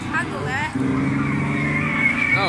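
An Easyrider Simulator kiddie ride's toy motorbike engine sound revs up with a rising electronic whine, loud and close, with voices talking over it.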